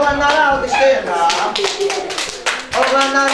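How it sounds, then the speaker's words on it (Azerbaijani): Young children at a kindergarten event clap in quick, uneven bursts of handclaps. Someone talks over the applause close by. "Kızlar oğlanları alqışlayın da."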